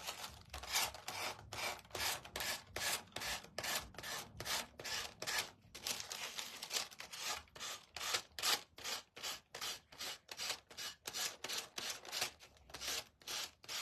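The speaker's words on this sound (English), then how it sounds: "now I'm going to get my little gator and we're going to sand this down" A small Gator power sander works over a wooden birdhouse kit, a continuous close rasping rub pulsing in quick regular strokes for the whole stretch, with no talking.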